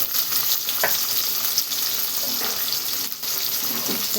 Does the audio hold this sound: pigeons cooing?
no